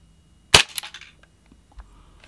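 Western Arms Beretta M8045 Cougar F airsoft gas pistol in gun-black finish fires one sharp, loud test shot indoors with a brief ringing decay, followed by faint handling clicks.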